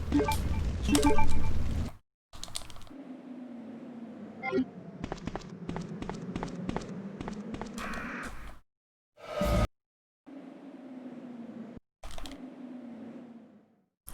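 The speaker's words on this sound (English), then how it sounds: "So hard to get back through the crows with Leon." Crows caw in Resident Evil 2 on the GameCube, as Leon pushes through them. Harsh caws and flapping bursts come in separate clusters across the stretch, broken by brief silent cuts, fairly close and loud against a low ambient hum.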